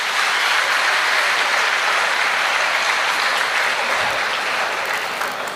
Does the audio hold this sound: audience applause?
yes